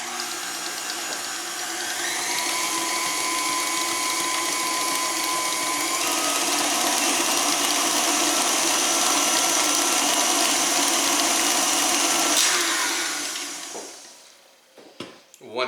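A stand mixer with a tilting arm beats pumpkin bundt cake batter, giving a loud, steady motor whir with a whining tone that runs about fourteen seconds, then winds down and stops.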